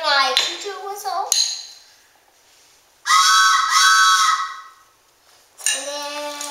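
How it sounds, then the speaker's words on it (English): Bursts of a hooting multi-tone toy train whistle, loud and close, sounded a few times with gaps of quiet between them. "here's my choo-choo whistle"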